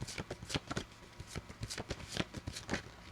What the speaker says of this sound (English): the cards are acting kind of weird as I'm shuffling through them